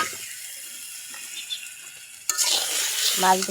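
Fish seasoned with turmeric and salt being sautéed in a pan, a quiet scrape before a sudden loud sizzle and stirring sounds with a short rattling scrape near the end.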